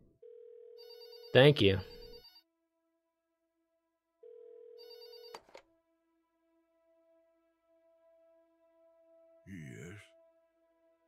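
A telephone rings in the video game There Is No Game, with two short electronic ring bursts separated by a pause and a brief spoken reply near the end.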